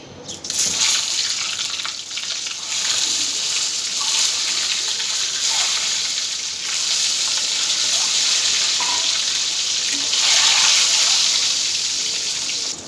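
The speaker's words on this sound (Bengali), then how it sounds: "এখন ডিমগুলো ভেজে নিব" Eggs frying in hot oil in a pan, seasoned with a little turmeric and salt for an egg curry, give a loud, continuous sizzle that hisses steadily and swells slightly near the end.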